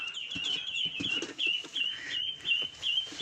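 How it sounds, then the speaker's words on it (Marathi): Silkie chickens call in a short, repeated series of high, thin, chirpy clucks. The calls stand out over a soft, rustling background, with no talking. "ही कोंबडी दाखवायची तुम्हाला"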